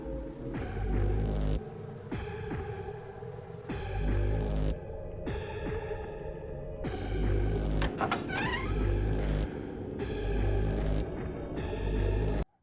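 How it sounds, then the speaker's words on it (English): Secret blast doors opening in a video game: a heavy mechanical hum pulses in repeating bursts about every second and a half, with a rising whine partway through, loud and continuous. "that's the sound of the secret blast doors opening"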